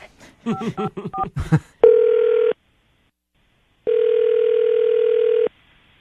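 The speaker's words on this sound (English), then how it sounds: "The hardest part of these is me dialing phone numbers." A quick burst of touch-tone dialing beeps, followed by two long, steady ringback tones separated by silence.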